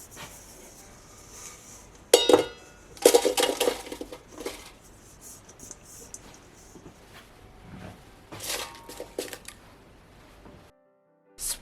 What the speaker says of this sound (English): transfer the cut and seasoned bread pieces to the basket